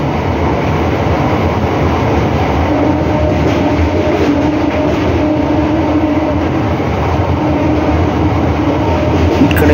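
Passenger train running between Vijayawada and Tenali, a steady loud rumble of wheels on rails with a continuous clatter throughout, heard from aboard the moving train with no talk.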